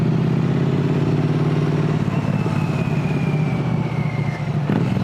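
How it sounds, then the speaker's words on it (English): A motorcycle engine runs steadily while the bike is ridden, a continuous loud mid-pitched drone with a droning harmonic hum and some wind noise throughout, no talking. "So I can still hear the beautiful sound of the bike and anything around me"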